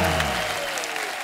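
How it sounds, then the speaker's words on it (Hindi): A studio audience on a comedy talk show breaks into brief applause, clapping briefly in a room with a lingering tone fading beneath. "जोरदार तालियां होनी चाहिए।"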